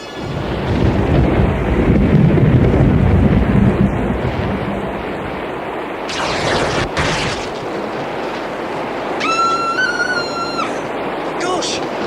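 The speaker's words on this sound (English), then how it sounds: "The thunder clouds built up overhead. The children sheltered in their tents. Then the storm broke." A thunderstorm in an audio drama: a long deep rumble of thunder with roaring gale wind builds and fades, followed by sharp gusts and a whistling tone, with a narrating voice over parts of it.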